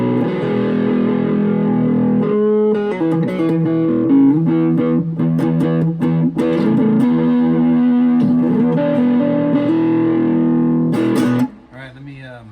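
A homemade cigar box guitar plays through distortion and effects, with loud, sustained overdriven chords and riffs that ring for about eleven seconds before cutting off into a short fade.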